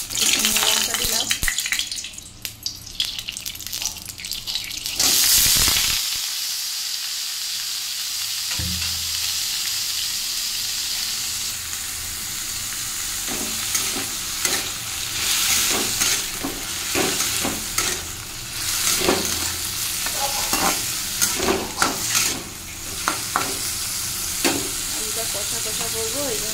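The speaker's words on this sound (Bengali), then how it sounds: "এই যে কড়াইতে তেল দিলাম, শুকনো লঙ্কা দিলাম," Onion and dried red chillies fry in oil in a wok, giving a steady broadband sizzle with stirring scrapes and brief dips, running close and fairly loud for the whole stretch.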